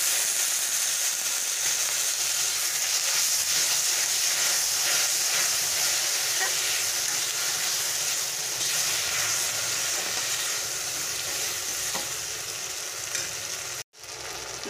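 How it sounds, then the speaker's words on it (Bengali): Fish fat frying with fried onions in a pan, giving a loud, steady hissing sizzle with occasional faint stirring, then a sudden short cut near the end. "মাছের তেলটা আমি ভেজে নিয়েছি।"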